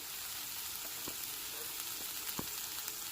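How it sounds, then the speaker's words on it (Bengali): Tomato, green chili and ginger paste frying with spices in a pan for a Bengali cauliflower kalia, a steady close sizzle with a few small pops and stirring taps. "টমেটো কাঁচা লঙ্কার আদার পেস্টটা খুব ভালো মতো এখানে কষানো হয়ে গেছে"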